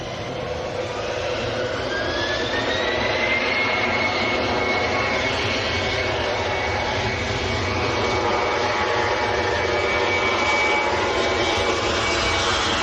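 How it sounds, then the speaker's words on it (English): A Finnair Embraer E190 jet departs for Helsinki from Manchester Airport, a loud, continuous engine roar with a rising whine sweeping through it, with no voices. "Finnair next to go to Helsinki and E190."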